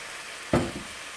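Peppers and carrots are stirred in a hot pan, giving one brief, sharp burst of sizzling that fades quickly into a low background hiss.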